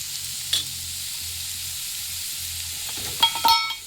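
Chopped onions sizzle in a pan with added salt, a steady frying hiss with a few sharp scrapes of a spoon stirring near the end. No one speaks.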